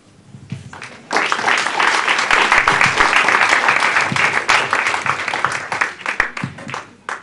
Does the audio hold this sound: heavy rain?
no